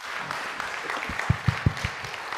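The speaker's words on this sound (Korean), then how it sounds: "우리 큰 박수로 우리 한번 환영합시다." A church congregation at a Korean Wednesday evening service claps to welcome an elder to the front, a soft burst of applause that builds into several sharper, closer claps before fading.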